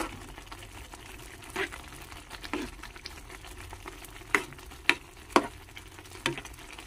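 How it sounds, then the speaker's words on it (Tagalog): Bean sprouts and vermicelli with vegetables simmer quietly in a pan on a low bubbling bed. Scattered sharp ticks and taps, like utensil contacts or popping bubbles, stand out every second or so, and there is no speech. "hayaan lang muna natin siyang kumulo, guys"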